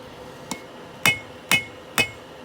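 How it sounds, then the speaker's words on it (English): A blacksmith's hammer strikes steel while forging wolf jaw tongs: four sharp ringing blows at roughly half-second intervals, the first lighter and the other three loud and close, each with a brief metallic decay. "I'm driving the hammer and not letting it bounce"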